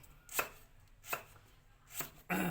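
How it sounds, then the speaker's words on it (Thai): A knife chops through lemongrass on a board while a frog curry is prepared, three sharp, evenly spaced cuts close to the microphone, ending in a brief louder scrape. "หั่นตะไคร่นี่เฮาเสียเอาไปโขกเนาะครับเนาะ"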